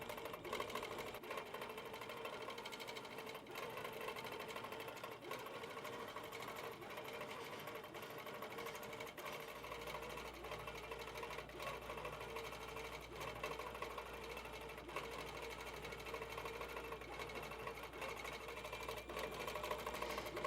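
HQ Pro-Stitcher longarm quilting machine stitching borders and corners at slow speed, a steady close mechanical whir with continuous rapid needle clatter throughout, and a low hum joining partway through.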